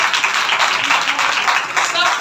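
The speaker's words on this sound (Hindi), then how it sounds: "इनके लिए तालियां बजाएं।" Congregation clapping at a Sunday church service, a brisk burst of many hands applauding together, close and fairly loud, with a voice speaking over it.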